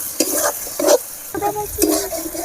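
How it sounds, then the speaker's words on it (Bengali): Ground spices frying in hot oil in a pan for chicken curry, with several distinct bursts of sizzling and stirring scrapes at a steady pace, close and fairly loud, no voices. "সব মশলাগুলো একসাথে ভালো করে ভেজে নিতে হবে।"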